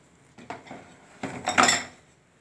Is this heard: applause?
no